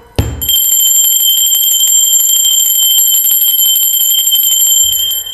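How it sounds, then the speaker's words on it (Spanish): A bright metallic bell rings rapidly and continuously for about five seconds, loud and close, with sustained high ringing tones. "va campana."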